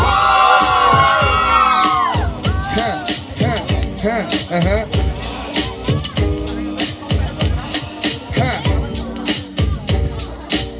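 A crowd of young people at an arts event shouts and cheers loudly, whooping at first and then chanting in a steady rhythmic beat, with voices mixed through the roar.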